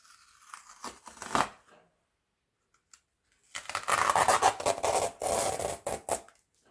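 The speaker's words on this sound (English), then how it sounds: "I have this kind of old straws, and I just peel it off." Washi tape is peeled off old plastic straws in two close, crackly tearing bursts, one short and one longer, with a quiet pause between them.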